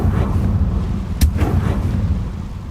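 The Confringo fire spell in Hogwarts Legacy goes off as a sharp, short explosive blast midway through, over a low rumbling game background.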